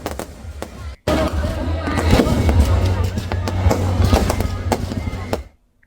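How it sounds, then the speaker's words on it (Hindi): Firecrackers bursting during a Ravan Dahan effigy burning at a Dussehra celebration in Kushinagar, a dense loud stream of cracks and pops over a steady low rumble and crowd noise, cutting off abruptly near the end. "ये देखिए आप कुशीनगर में किस तरीके से पटाखों की आवाजों के साथ"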